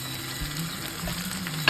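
Rice with prawns frying in a pan over medium heat, a steady close sizzle with soft stirring scrapes and a sharper knock at the very end.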